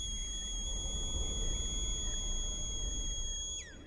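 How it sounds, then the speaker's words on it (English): A film scene in which Superman blows a super whistle produces a sustained, piercing high tone with clear harmonics that holds steady, then ends with a quick downward swoop as a low rumble drops away. "he blows a super whistle, and you can really hear the crisp sound design of the whistle now"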